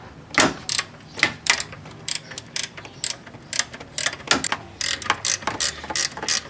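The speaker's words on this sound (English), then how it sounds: "to loosen the belts, we need to first loosen this locking nut or locking bolt or whatever, and then we need to loosen this all the way" A ratchet loosening 12 mm alternator bolts on a Hyundai Elantra, with bursts of rapid clicking in short strokes, close and fairly loud, with brief pauses between pulls.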